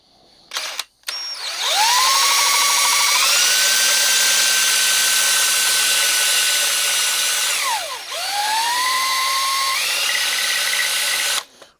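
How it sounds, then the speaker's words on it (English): A power drill whines as it bores a hole into a metal bracket for a WEN portable bandsaw, its pitch rising, holding steady, then dipping as the bit slows and spins back up. "gonna drill a smaller hole in the middle here."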